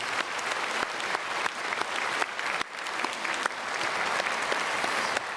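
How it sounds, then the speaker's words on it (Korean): A church congregation applauds to welcome a visiting pastor at a Sunday service, sustained warm clapping from a large crowd filling the room at an even level throughout. "우리 박수로 목사님 환영하고 축복하겠습니다."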